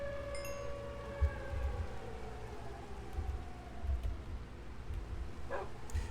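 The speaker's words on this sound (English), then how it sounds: "Once the siren shuts off" A tornado warning siren in Minecraft wails in long sustained tones that slowly fall in pitch, moderately loud, while a dog barks in short bursts underneath.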